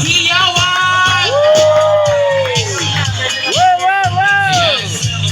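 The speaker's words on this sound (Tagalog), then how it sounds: "Palakpakan na may kasamang hiyawan!" A crowd applauds and cheers loudly at a public event, with whoops and long rising shouts sweeping over a bed of clapping and babble, voices swelling in two big waves.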